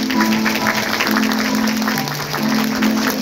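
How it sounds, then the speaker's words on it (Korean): Applause fills a Korean wedding ceremony hall as the couple bows to both families, a steady wash of clapping that carries on throughout with sustained musical tones underneath. "박수 더 크게 치셔도 돼요."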